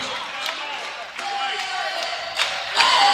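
The home crowd at an Owensboro Thoroughbreds basketball game roars in a dense, sustained wall of cheering, with shoe squeaks and court noise poking through and swelling louder near the end.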